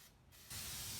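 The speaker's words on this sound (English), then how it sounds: "to clean out your lid on a spray can, if you turn it upside down" A spray can held upside down to clear its nozzle lets out a short, steady hiss that starts abruptly midway and carries on close and even.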